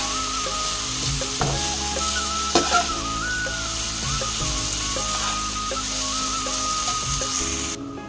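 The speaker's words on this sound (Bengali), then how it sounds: "এবারে এটাকে ভালো করে ফ্রাই করব।" Chicken coated in turmeric, Kashmiri chili powder and chicken masala with green chilies frying in a pan, a steady close sizzle throughout with a few sharper scrape or stir bumps and faint background tones.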